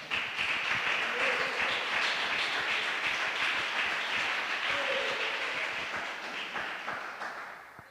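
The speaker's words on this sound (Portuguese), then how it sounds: "Aplauda Jesus com palmas." A church congregation clapping together during a sermon: dense, continuous applause of many hands, loud and steady for several seconds before tapering off at the end.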